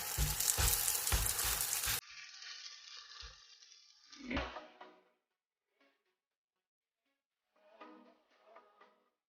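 Msemen, a large double-layered Moroccan flatbread, hitting a hot pan with a loud burst of sizzling that settles into a softer crackle, followed by a few light knocks and scattered faint frying sounds.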